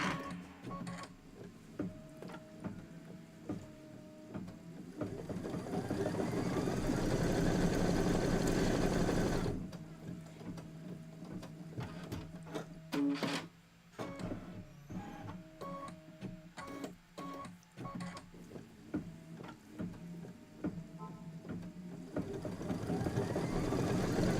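A sewing machine stitches a quilt in a continuous mechanical whir, running steadily, pausing briefly and starting again, close and fairly loud with no talk over it.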